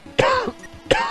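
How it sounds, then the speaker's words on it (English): Two close, sharp coughs about three-quarters of a second apart, the first trailing into a brief throaty sound. "I hate my cough."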